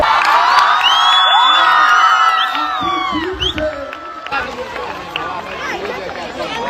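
Loud audience cheering with high whistles and whoops at a celebration for a Gujarati film's box-office success, voices shouting together in a lively, boisterous roar that gradually thins out.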